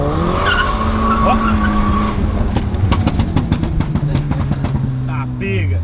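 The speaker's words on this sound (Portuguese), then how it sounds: "em quarto o carro tava cantando pneu" A 400 hp Volkswagen Jetta accelerating hard with its tires spinning, giving loud, sustained squealing over a roaring engine, close by, while people talk over it.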